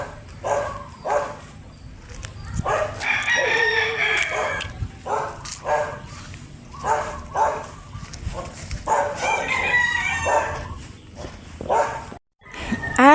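Chickens and roosters in a rural backyard in Pampanga, Philippines, with repeated loud crowing and clucking close by, a dog barking among them.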